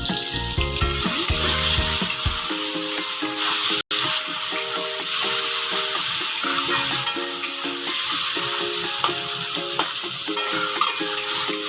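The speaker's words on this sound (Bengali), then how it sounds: "টমেটোটা ভাজার সময় অল্প একটু নুন দেবো, যাতে টমেটোটা তাড়াতাড়ি গলে যায়।" Tomatoes fry with a little salt and turmeric in a pan for South Indian-style dal, with curry leaves and ginger, giving a steady, close sizzle that runs through the whole clip, with stirring scrapes near the start.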